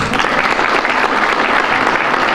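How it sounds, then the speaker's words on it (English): An evening audience applauds warmly, dense steady clapping from many hands filling the room throughout, loud and unbroken. "Let's give her another round of applause"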